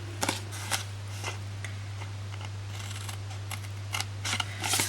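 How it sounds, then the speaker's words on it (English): Very sharp snips cut notches into the flaps of a cardstock gift box, giving several quick crisp snipping cuts spaced irregularly over a steady low hum, close and fairly quiet. "we're very quickly just going to notch out those, those flaps"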